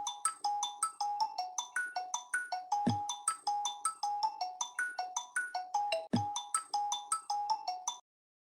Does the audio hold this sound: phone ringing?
yes